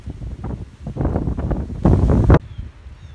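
Strong storm wind buffets the microphone in gusty, rumbling bursts, peaking in a loud roaring blast before easing off.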